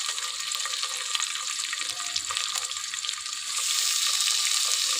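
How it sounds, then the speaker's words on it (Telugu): Tomato, coriander and cucumber fry in oil in a pan for a cooking sambar, a loud continuous close sizzle that swells slightly toward the end. "ఇవన్నీ మంచిగా ఆయిల్లో కుక్ అవ్వాలి."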